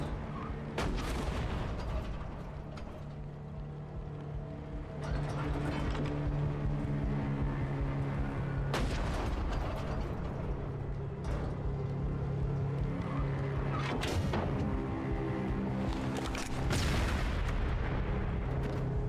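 Grenades blow up inside tanks during a horror video game, giving heavy booming blasts every few seconds over a low, constant rumble, with sharp crackling onsets and fading tails.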